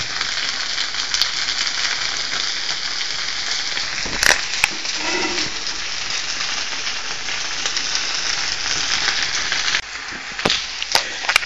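Rice toasting in a paella pan and catching on the bottom, a constant close crackling sizzle with sharp scrapes and clicks of a utensil, no voices.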